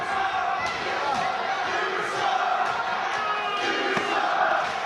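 A wrestling crowd at a title match cheers and chants loudly and continuously, with rhythmic roars and sharp claps or slams rising out of the dense, steady crowd noise.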